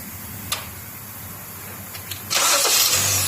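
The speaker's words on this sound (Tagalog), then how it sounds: "pa-start natin yung sasakyan" A Kia Sportage engine starting: a few faint clicks, then the engine catches abruptly and settles into a loud, steady idle close by, with no talk.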